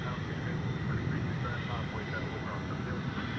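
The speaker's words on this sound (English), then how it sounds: "Turkish Airlines is about to take off" A Turkish Airlines Dreamliner airliner at DFW airport hums with a steady, distant engine drone before takeoff, low and fairly faint, a constant broadband rumble without clear change over the moment.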